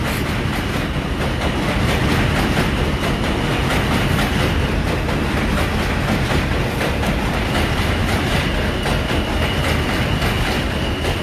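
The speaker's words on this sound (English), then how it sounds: "Here's that train." An MTA train rolls past close by, a loud, continuous rumble with rhythmic clickety-clack of wheels over rail joints lasting the whole stretch, with no voices.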